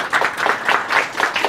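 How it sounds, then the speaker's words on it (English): Audience clapping at a creative workshop event, a short burst of rhythmic, fairly close hand claps pulsing in waves for about a second and a half. "Everybody clap for Maxine."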